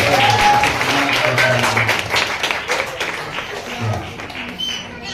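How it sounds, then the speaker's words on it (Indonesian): Audience at a gathering applauding steadily, a dense wash of many hands clapping that carries on throughout and slowly thins, with a few voices rising over it. "Tepuk tangannya kurang meriah. Lebih meriah lagi."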